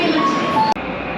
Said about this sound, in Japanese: ちょうどやってきた電車は小田急線直通の向ヶ丘遊園駅の電車になります。